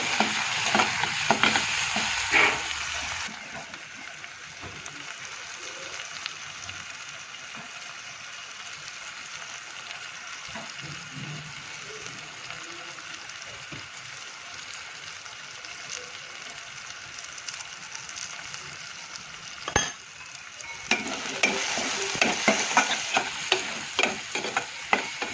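Masala stirred into onions and tomatoes frying in a pan, a steady sizzle with scraping stirs, louder and busier at the start and end, quieter simmering crackle in between, no talk.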